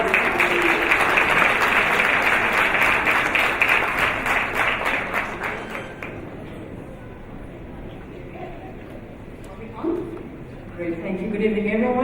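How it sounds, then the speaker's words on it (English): Audience applause at an awards evening, loud dense clapping from a crowd that fades away after several seconds, followed by a speaker talking over a quieter room. "Round of applause for Nancy."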